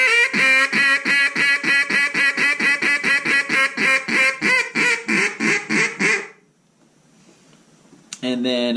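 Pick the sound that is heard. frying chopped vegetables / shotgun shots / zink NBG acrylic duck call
zink NBG acrylic duck call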